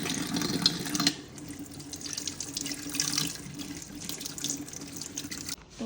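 Running tap water splashes steadily over calotropis leaves being rinsed by hand in a sink, a close, continuous wash with small shifts as the leaves move under the stream.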